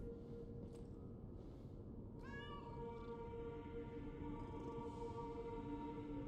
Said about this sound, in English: The cat's by the toys.